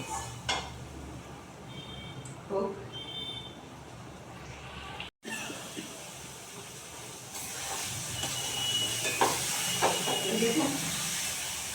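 Onion and spice paste frying in oil for tel koi fish, a steady hiss that grows into a stronger, broad sizzle, with occasional utensil clinks against the pan and a voice talking over it.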